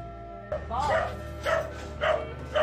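A dog on a village farm in Phu Tho, Vietnam, barks four times in a loud, close, evenly spaced series, with someone talking alongside.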